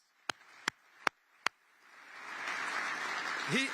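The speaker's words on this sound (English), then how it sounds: "So let's give Dan Gilbert a round of applause" Press conference audience applause for Dan Gilbert at a Cleveland Cavaliers and Cleveland Clinic partnership announcement, starting after four sharp clicks and swelling into a steady, moderately distant clapping.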